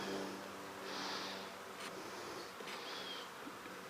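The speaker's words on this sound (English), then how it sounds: "Shake those bees." Honeybees shaken off a nuc frame early in the year, a faint steady buzzing hum close by, with brief rustling and a couple of sharp knocks.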